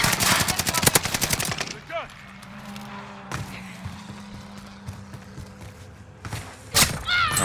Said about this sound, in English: Somebody's coming from harbor that's shooting us a lot